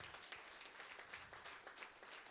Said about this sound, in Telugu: క్లాప్స్ కొట్టండి. దుర్గా క్లాప్స్.